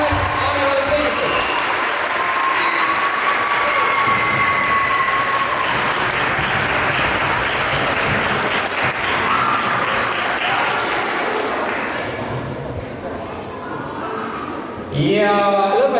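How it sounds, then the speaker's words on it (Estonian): Sustained applause from a large audience at a school student dance competition, loud and steady throughout, with cheering voices mixed in and a brief swell near the end. "teeme suure aplausi veel"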